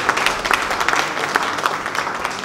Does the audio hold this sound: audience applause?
yes